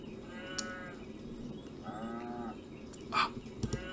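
Cattle lowing in the McDonald's Simulator video game, a few moderate moos spread over a steady background hum, with no talk over them.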